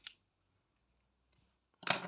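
Scissors snip crochet yarn while finishing a crocheted pyjama toy, a soft click at the start and a sharper close cut near the end, quiet and alone.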